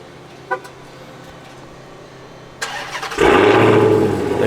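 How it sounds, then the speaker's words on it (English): A Dodge Charger starting by remote start, with a short chirp and a few clicks, then the engine cranks and catches into a loud, steady idle close by. "your remote start still works"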